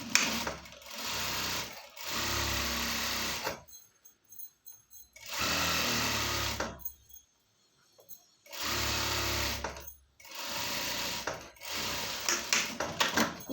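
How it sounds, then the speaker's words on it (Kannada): A sewing machine lays a double line of stitching on a pair of pants in several loud, close bursts of rapid whirring, separated by short pauses as the fabric is repositioned. "ಈಗ ಇದ್ರ ಮೇಲೆ ಡಬಲ್ ಸ್ಟಿಚ್ ಹಾಕೋಣ"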